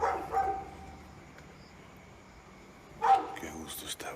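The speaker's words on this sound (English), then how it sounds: "What's up with the dog barking, man?" A dog barks a couple of times, a short burst at the start and another a few seconds later, with quiet room noise in between.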